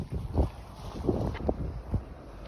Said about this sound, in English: Lovely bit of wind